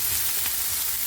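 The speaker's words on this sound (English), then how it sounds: "These I'm now going to fry off in a frying pan, just with a little bit of olive oil." Food fries in a pan with a little olive oil, giving a steady, close hiss and sizzle that stays even throughout with no speech.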